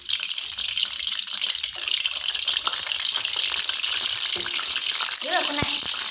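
Beef for a soup is rinsed under running water, a steady broadband gush that fills the whole stretch with splashing and scattered clatter, close and continuous throughout.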